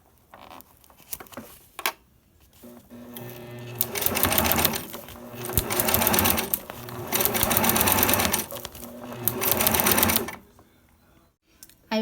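A sewing machine set to stitch length 3 runs a straight seam on a thermal bag, holding an outer pocket in place, in several steady bursts of fast rhythmic stitching separated by short pauses.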